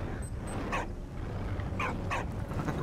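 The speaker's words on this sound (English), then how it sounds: "Oh, whoa, that's a dog" Several short dog barks and yips in the World War I video game Valiant Hearts: The Great War, spaced irregularly over a steady background of game sound.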